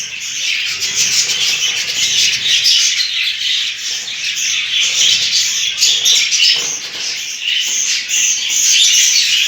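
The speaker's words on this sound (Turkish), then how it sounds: "Bakın arkadaşlar kuşlar yarmayı nasıl yiyor." Budgerigars in a home breeding setup chirp and squawk continuously while eating boiled cracked grain, a dense, loud, close chorus of tweets with no talking.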